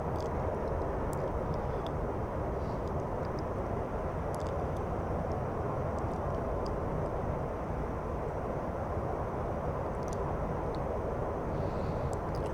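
Aircraft engine rumbling steadily during a landing approach in the DCS World flight game on the Nevada map, a dense low roar with no talk.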